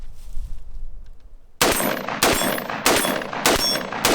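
A 7.62x39 rifle fires four loud, evenly spaced gunshots at a target after a quiet moment, each crack sharp and close with a short ringing decay.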